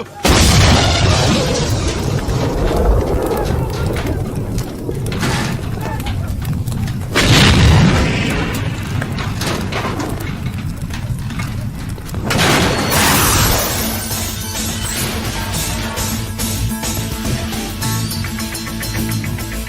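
A car bomb goes off in a Telugu film scene: several loud, deep booming blasts hit at intervals over a dense, continuous soundtrack of rumble and noise.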